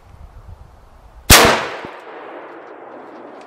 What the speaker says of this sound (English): let's shoot that plate out there